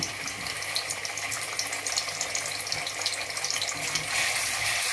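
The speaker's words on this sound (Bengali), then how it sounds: "এইভাবে নাড়তে থাকবেন আপনারা" Garlic paste is stirred in a hot pan, giving a dense, continuous wet sizzle and hiss, close and steady, with no voices over it.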